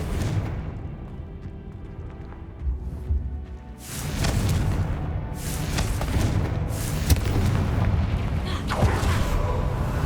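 In the Hogwarts Legacy game, a cast Confringo fire spell erupts in a heavy boom after a brief quieter lead-in, followed by sustained crackling, rumbling blast debris and further bursts.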